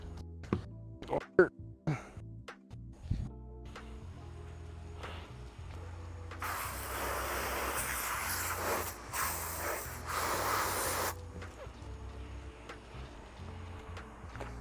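A water hose sprays in a steady hissing burst of about five seconds while cleaning a venomous reptile's cage, preceded by a few knocks and handling sounds, with a person talking nearby.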